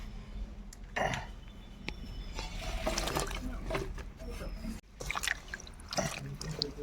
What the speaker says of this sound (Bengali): ভেন্ডিগুলোকে আমি সুন্দরভাবে ধুয়ে নিয়েছি